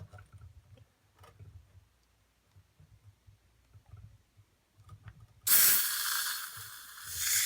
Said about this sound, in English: Just so you can hear the air leak.